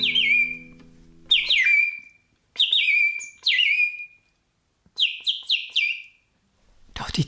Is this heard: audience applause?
no